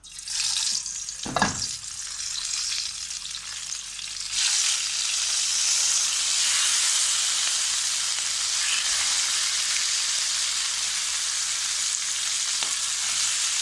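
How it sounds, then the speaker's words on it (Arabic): Meat frying in a pan of oil with a spoonful of tomato sauce, a loud continuous sizzle, with a short clatter early on, then steady hissing throughout. "هنحمر اللحمه"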